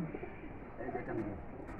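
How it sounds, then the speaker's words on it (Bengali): Giribaz pigeons on a rooftop give soft, low cooing for a brief moment, faint against the background, with someone speaking nearby. "এই পাশে দেখেন আরো কবুতর আছে"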